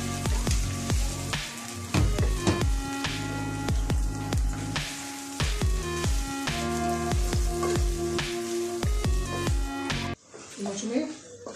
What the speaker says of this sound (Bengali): পেঁয়াজ গরম মশলা দিয়ে দিছি, পেঁয়াজটা ভাজা হোক।